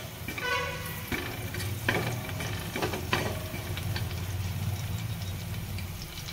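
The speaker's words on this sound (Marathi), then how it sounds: "हे परतत असताना लसूणच आपण तस परतून घ्यायचं आहे." Garlic sizzles in a pan while being stirred, a continuous close frying hiss broken by several sharp scraping and clinking strokes of the spatula against the pan.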